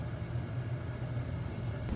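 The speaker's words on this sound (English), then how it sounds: "they've just connected the 4x4 feature, and we're about to head up on what looks like a gravel road" A 4x4 vehicle with four-wheel drive engaged rolls up a gravel or dirt road in southwestern Iceland, giving a steady low engine and tyre rumble heard from inside the cabin, with no talking.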